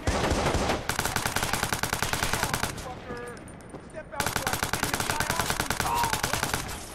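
Rapid automatic gunfire in the game Watch Dogs rattles loud and dense in two long sustained bursts separated by a brief lull, with talk in the background.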